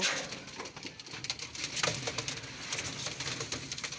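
Moulting pigeons coo softly in a steady murmur, with occasional light flutters and taps nearby; no talking.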